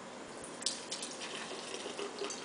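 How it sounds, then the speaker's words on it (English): Soda poured into a glass makes a steady fizzing, splashing stream with soft bubbly crackle, faint and continuous and without talk. "We're gonna fill this up with some soda."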